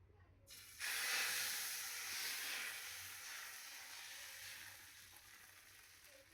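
Ghavane rice crepe batter poured onto a very hot tawa bursts into a loud sizzle that starts suddenly, then settles into a steady, gradually softening hiss.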